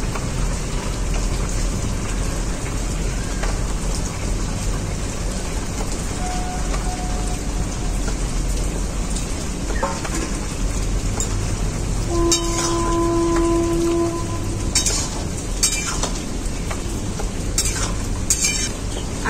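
Fried potatoes cook in a pan with bottle gourd and prawns, giving a continuous even sizzle throughout with scattered clinks from a utensil toward the end and no talking.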